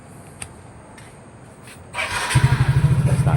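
A Yamaha Mio GT scooter cranked by its electric starter catches after a brief whir and settles into a loud, pulsing idle close by, following a few seconds of quiet background.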